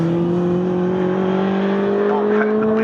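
Classic MGB race cars lap the Snetterton circuit, with a steady, loud engine drone holding an even pitch throughout and no break in the sound.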